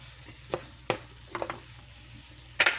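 Pakbet vegetables being stirred in a pan, a handful of scattered scraping clacks from a utensil against a soft steady sizzle, close and otherwise quiet.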